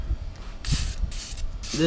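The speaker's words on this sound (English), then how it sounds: "we're going to go ahead and spray this" Three short bursts of aerosol spray hiss in quick succession onto an STM clutch on a Can-Am, close up, separated by brief pauses.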